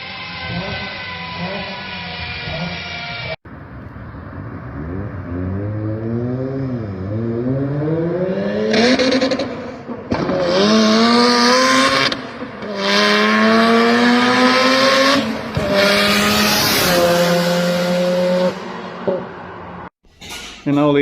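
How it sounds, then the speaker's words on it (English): Mazda RX-7 FD with a three-rotor turbocharged rotary engine, holding a steady note and then revving up again and again in rising sweeps, loud and close, with sharp high-pitched bursts on top and brief gaps between pulls. "this is what a 3-rotor turbocharged FDRX7 sounds like"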